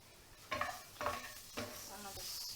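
Food in a frying pan being stirred: three or four scraping stir strokes at even intervals over a soft, steady sizzle, close and moderately loud, with no talking.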